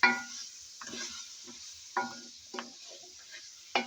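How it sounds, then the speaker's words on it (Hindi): Spices frying in ghee for chicken korma sizzle softly in a pan while a spoon stirs and scrapes, giving several sharp clinks spaced about a second apart over the quiet hiss. "अब मैं इसमें डाल दूँगी तमाम अदर स्पाइसेस, इसको भी मिक्स कर लूँगी।"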